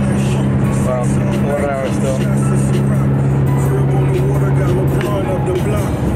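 A car cruises along a road on a long drive, a steady, close engine and road rumble filling the cabin while people talk over it.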